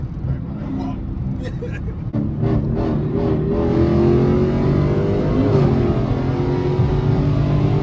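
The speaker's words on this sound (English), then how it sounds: "the truck hit the gas?" Truck accelerating in busy traffic, its engine swelling into a steady loud roar close by, with people talking over it at the start.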